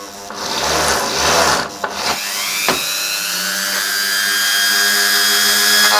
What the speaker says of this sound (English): I always prefer working on lower speeds and having my drill, kind of slow down a little bit.